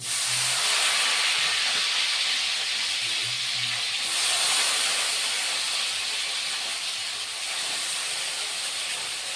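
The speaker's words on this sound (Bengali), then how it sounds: "তেলটা তো আমার গরম হয়ে গেছে এখন আলু বেগুনটা আমি আগে বন্ধুরা ভেজে নেব" Potato and eggplant pieces hit hot oil in a pan, turmeric added, for a fenugreek greens dish. A loud, continuous broadband hiss of frying holds steady throughout, with no voices.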